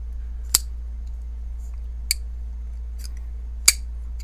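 A Tactile Knife Co Rockwall folding knife snaps open and shut in three sharp, crisp metallic clicks, evenly spaced and close, over a steady low hum.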